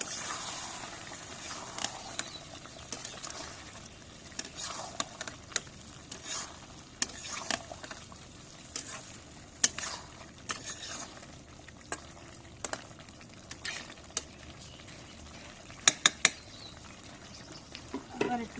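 Country chicken curry being sautéed in a pot, a steady sizzle under frequent scraping and stirring clinks of a spoon against the pot, close and moderately loud.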